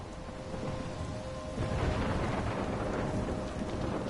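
A thunderstorm in Life is Strange: heavy, constant rain hiss with a deep rolling rumble of thunder swelling midway, loud and enveloping with no voices.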